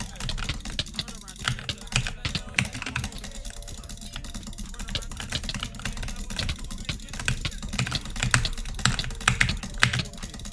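Rapid keyboard and mouse clicking during a Minecraft PvP match, a busy clatter of quick taps and bursts running throughout with a low background hum.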